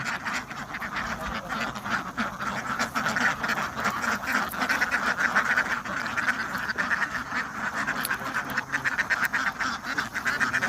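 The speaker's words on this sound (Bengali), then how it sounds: "এই হাঁসের পাল নরি হাঁস আর কি মানে মেয়ে হাঁস এগুলো ডিম পাড়ার হাঁস" A large free-ranging flock of female egg-laying ducks, around six hundred on an open wetland, quacks in a dense, continuous chorus of overlapping calls, loud and close, with no talking.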